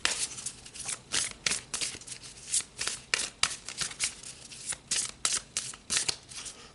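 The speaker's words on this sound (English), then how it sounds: "So let's pull some more cards." Tarot cards are shuffled by hand in a run of crisp, close riffles and flutters, each burst sharp and papery with short pauses between, and no talking.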